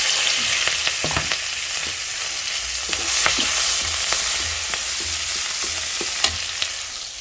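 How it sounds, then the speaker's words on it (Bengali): Onions frying in oil left over from frying fish, a constant sizzle with scattered scraping and clinking as a spoon stirs them, heard up close with no voices. "আমি সেই তেলে পেঁয়াজ দিয়ে দেবো।"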